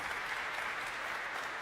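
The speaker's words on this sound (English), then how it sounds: "And so, you got applause." A theater audience claps in a dense, steady burst of applause, the sound even and moderately loud, with no voices over it.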